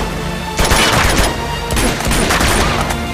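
Loud gunfire in the video game Uncharted 2, a sustained noisy volley with two sharper surges of shots over continuous background battle sound, no talking.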